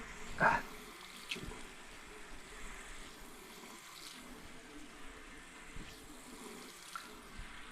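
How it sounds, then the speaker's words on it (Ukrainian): Warm water runs from a tap during a rinse after shaving with a razor, a faint, steady trickle and hiss with a brief louder splash near the start, quiet and close, with no speech. "Це можемо змивати тепленькою водичкою."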